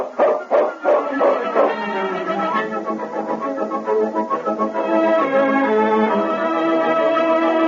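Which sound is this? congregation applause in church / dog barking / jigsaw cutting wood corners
dog barking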